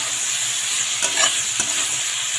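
Loud, close sizzling of a fish curry with green chillies frying in a pan, a continuous hiss broken by a couple of stirring scrapes, with no talk.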